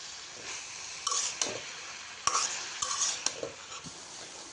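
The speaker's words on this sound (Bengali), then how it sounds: "মোচাটাকে দিয়ে নেওয়া হয়ে গেলে ভালো করে নেড়ে চেড়ে মিশিয়ে নিতে হবে" A spatula scrapes and knocks in a pan as chopped banana flower is stirred together with coconut and shrimp, irregular clinks and scrapes over a soft sizzle.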